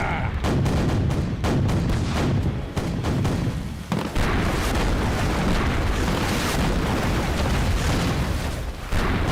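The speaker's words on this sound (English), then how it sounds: "prepare the cannons! And fire!" Ship cannons firing during a naval battle in an animated series, a rapid volley of loud booming blasts in the first few seconds followed by a dense continuous roar of explosions and rumbling.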